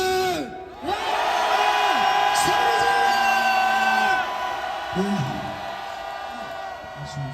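Crowd at a political rally outside the Corruption Investigation Office in Korea, voices rising in loud sustained cheers and shouts, with whoops and bellowed chanting swelling across the whole span before easing slightly near the end.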